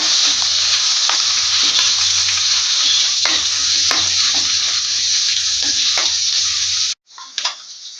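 Three long-sliced onions fry in hot oil for a dry fish curry, a loud continuous sizzle with intermittent stirring scrapes, cutting off abruptly near the end before a brief clatter.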